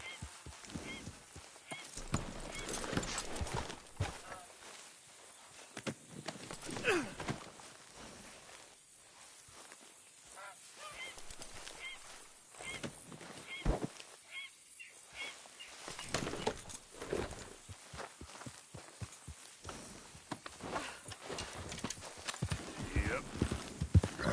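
Steady clip-clop of horse hooves on a hard path with the ambient sound of the Red Dead Redemption 2 game world, punctuated by occasional voices.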